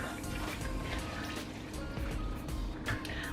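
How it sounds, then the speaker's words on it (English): Water poured from a can into pumpkin chili simmering in a crock pot, a steady close liquid splash and trickle lasting a few seconds with light kitchen clatter. "I just added 2 cups of water to this, which is totally fine."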